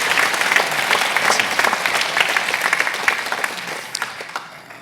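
Church congregation at an Easter service clapping together, a steady loud round of applause that thins out toward the end, with no voices over it.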